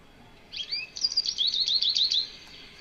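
A bird sings a bright, warbling phrase of high notes that climb and dip, lasting about two seconds over quiet background hiss.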